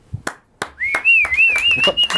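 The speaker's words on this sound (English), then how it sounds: "Oh, he's starting to whistle. He's whistling." A man whistles a wavering, sustained tune on a talk radio birthday show, loud and close, after a few sharp claps or knocks at the start.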